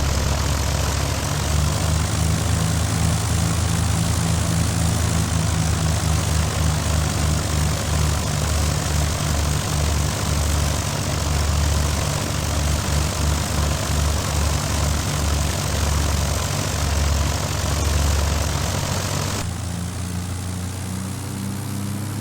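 Piper PA-22 Tri-Pacer single-engine propeller plane in a flight simulator pushed to takeoff throttle, a loud, steady droning engine and propeller hum that holds throughout, then shifts to a lower tone near the end.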